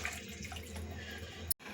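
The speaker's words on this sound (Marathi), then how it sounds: "आता आपण ह्यामध्ये फक्त छोट एक ग्लास पाणी ऍड करणार आहोत" A small glass of water poured into sautéed spices in a pan for palak paneer, a brief soft gurgling splash lasting about a second and a half before cutting off abruptly.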